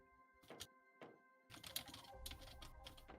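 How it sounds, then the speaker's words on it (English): A few isolated key taps are followed by a denser, faint run of computer keyboard typing, close and quiet, with a soft hum underneath. "That sounds like searching typing."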